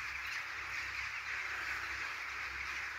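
Many birds calling together high in a wet Scottish forest during a rainy hammock camp, a dense, continuous chorus that stays steady and moderately loud with no talk over it.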